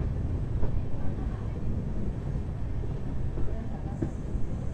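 Bengaluru-Tirupati Intercity Express train running, a steady low rumble of wheels and carriage noise filling the whole stretch at moderate loudness.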